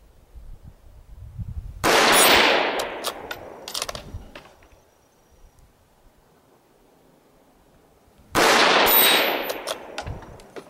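Two sharp, loud shots from a Tikka T1X rifle in .17 HMR, fired outdoors in cold weather several seconds apart, each with a bright crack and a short echoing decay, with quiet pauses between.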